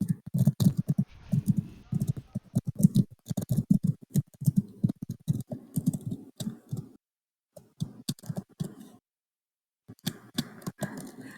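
Fast, irregular clicking of keys on a computer keyboard, close and fairly quiet, in bursts with short pauses, no voices.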